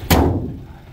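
A single heavy bonnet of a 2022 Skoda Slavia petrol car slams shut with a deep, solid thud, followed by a short low rumble that fades out.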